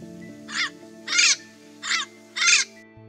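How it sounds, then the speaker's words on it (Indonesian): Four harsh crow caws ring out in an evenly spaced series, fairly close, over a quiet background with a low steady hum. "burung-burung yang pagi itu tengah bernyanyi dengan merdu"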